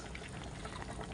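Cooking oil is poured into a pot of simmering paksiw. A soft, steady liquid pour plays faintly and without a break for about a second, with no voices over it.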